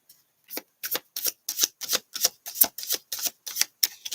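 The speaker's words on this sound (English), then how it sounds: "One more shuffle." A deck of tarot cards is shuffled in a dozen crisp, evenly spaced riffles, each a short bright snap, close and clear with no talking.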